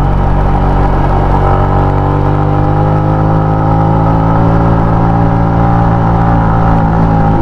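Motorcycle engine laboring up a steep uphill road, a loud, steady droning hum with strong low harmonic tones held evenly throughout, close to the microphone with no voices.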